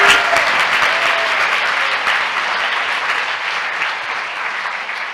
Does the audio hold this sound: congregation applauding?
yes